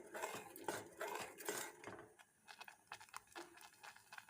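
A wheat flour and milk mixture thickening in a pan while being stirred, quiet clinking and scraping of a metal spoon against the pan in short irregular bursts, faint and close.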